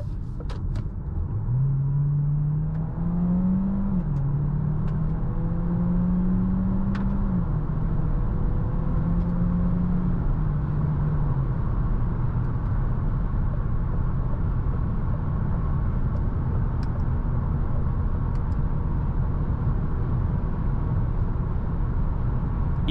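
A 2023 DS 7 E-Tense 300 plug-in hybrid SUV accelerating onto a motorway, heard from inside the quiet cabin as a steady low road rumble with a rising, shifting engine tone early on.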